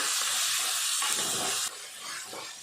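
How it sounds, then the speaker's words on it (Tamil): A steady, loud sizzling hiss of drumstick and eggplant sautéing in hot oil, close up, which eases slightly partway through. "சேர்த்துட்டு இந்த எண்ணெயிலே கொஞ்சம் நேரத்துக்கு நல்லா வதக்கலாம்"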